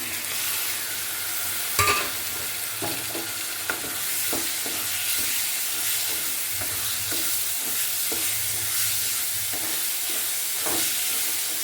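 Tomatoes are added and stirred into a hot frying pan while making shavige bath (vermicelli breakfast dish). A steady, close sizzle runs throughout, with frequent light scraping and clinking from stirring and no talk.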